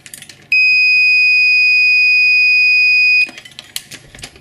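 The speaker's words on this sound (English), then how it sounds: "The plunger will be lifted up and the alarm should sound." A DAA powder check alarm on an ammunition reloading press, set off by an empty case, gives a loud, steady, high-pitched beep for about three seconds, framed by light clicks and handling noise.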